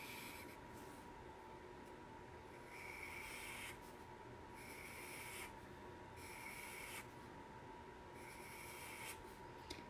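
A chisel nib marker drawing on paper while sketching an ice skater, with soft repeated scratchy strokes in short bursts over a steady faint background hum, close and quiet.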